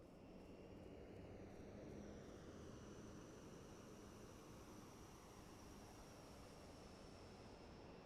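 A de Havilland airplane flies by in Microsoft Flight Simulator 2024 on PS5, giving a steady, even engine drone with airy noise and no speech.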